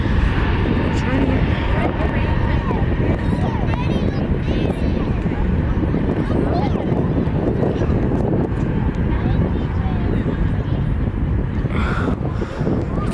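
A Thai Airways airliner passing overhead during outdoor plane spotting, a loud continuous roar mixed with heavy wind buffeting on the microphone, with a person talking over it.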